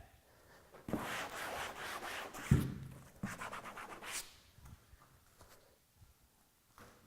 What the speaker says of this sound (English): you can just give an extra scrub